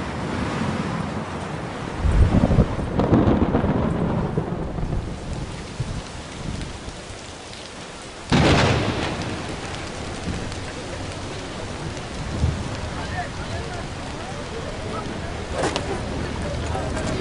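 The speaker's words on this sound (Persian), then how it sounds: "راستی راستی داره بارون میادا." Steady rain falls throughout in an Iranian film scene, a broad continuous hiss with a few brief louder bursts, while voices talk over it.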